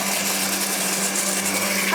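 A kitchen blender whirs steadily while making mayonnaise on a TV cooking segment, a continuous loud motor drone with a constant hum running the whole time.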